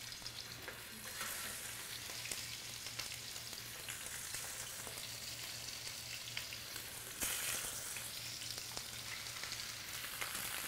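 Pork hock (pata) sizzles and crackles in very hot oil in a pan, a continuous dense frying hiss with bursts of popping, steady and close throughout.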